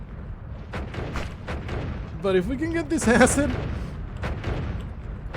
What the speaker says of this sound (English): he's throwing the most massive explosions ever conceived